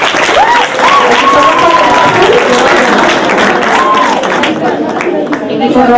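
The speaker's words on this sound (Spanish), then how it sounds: "Y quiero también un aplauso muy fuerte para el equipo gris que lo ha hecho muy bien." Audience applause at a school environmental debate, steady and loud throughout, with voices calling and talking over the clapping.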